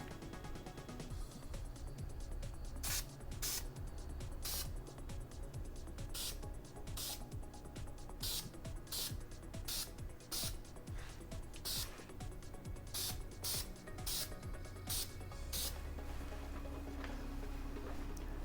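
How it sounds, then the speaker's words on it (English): Short bursts of spray paint hiss onto Boba Fett armor from about two feet away. The brief bright sprays come about a dozen times at an irregular pace, faint against a low background. "I'm just going to do short little sprays so that it just kind of dusts onto here"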